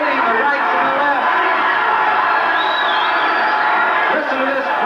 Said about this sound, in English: Listen to this crowd, a capacity crowd here at Lake Charles Civic Center, cheering these fighters on.